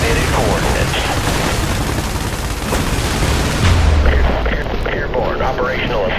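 Airstrike explosions rumble continuously in the IS Defense game, a dense, loud wash of booms and artillery-like blasts with a heavy low thump near the middle, while a voice talks over the din.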